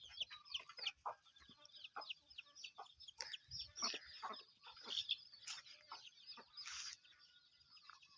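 Burmese fighting cocks cluck and chatter in repeated short calls, close and clear over a quiet outdoor morning background, with a few louder squawks.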